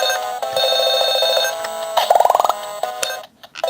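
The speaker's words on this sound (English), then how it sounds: "you have that annoying ringing sound whenever you drop the pieces" A handheld LED Tetris game plays a shrill electronic ringing tone, steady and loud, then a quick run of rising beeps as a piece drops, ending in a sharp blip and near silence.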